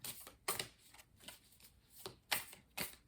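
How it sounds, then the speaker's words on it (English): Tarot cards are shuffled by hand in a series of quick, crisp riffling bursts, close to the microphone and fairly quiet, with no voices. "we're going to continue by doing some shuffling. I'm going to pull 6 tarot cards."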